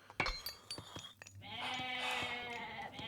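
Goats bleat in a strategy video game match, with a few short clicks and calls followed by a sustained, wavering bleat-like cry that is moderately faint and heard without talking.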